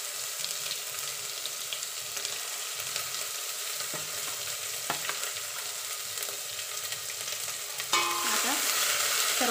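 Pav bhaji mixture with onion gravy and cumin powder stirred in a pan: a steady sizzling hiss with occasional soft scrapes, close and fairly loud, the frying noise growing denser near the end.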